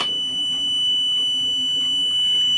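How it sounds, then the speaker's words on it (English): Extremely loud electronic buzzer on an Island Packet 38 sailboat sounds steadily as the engine is being started, a piercing continuous tone with a low hum beneath. "I also put some electrical tape over this buzzer right here. It is extremely loud"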